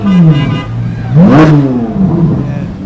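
A car engine at a Halloween parade revs loudly nearby in rising and falling surges, with one sharp climb at its peak, as voices are heard in the background.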